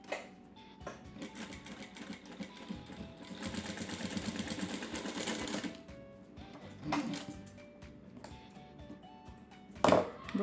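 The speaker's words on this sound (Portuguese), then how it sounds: "Passo as costurinhas aqui para ficar... bem bonitinho, bem acabadinho." A domestic sewing machine runs in bursts while stitching a baby diaper bag with a changing pad, a quiet mechanical whirr with a longer steady run in the middle, brief pauses and a clack near the end.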